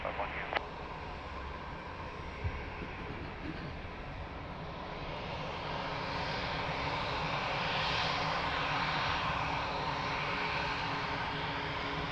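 A fixed-wing airplane at Lisbon Airport, its engine roar steady and broad, building slightly louder toward the end, heard at a distance under a faint voice and a few sharp clicks.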